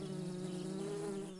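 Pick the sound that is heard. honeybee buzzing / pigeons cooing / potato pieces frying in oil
honeybee buzzing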